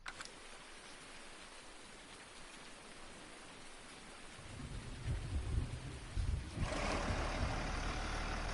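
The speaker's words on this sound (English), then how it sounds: "Come on, rain. You rained enough." Rain falling in the farming game Farming Simulator 19, a soft steady patter that swells into a heavier downpour with a low rumble midway, no voices.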